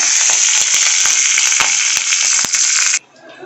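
Loud, steady sizzling of curry leaves and urad dal dropped into hot oil for tomato chutney, crackling continuously for about three seconds before cutting off abruptly.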